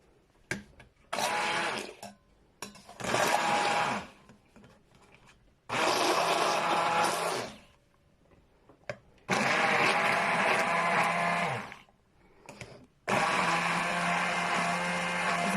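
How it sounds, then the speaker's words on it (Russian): A kitchen blender whisks thawed eggs for Bashkir baursak dough in loud, steady whirring bursts of a few seconds each, stopping and restarting about five times with short quiet gaps between. "Дальше мы берем блендер и начинаем взбивать."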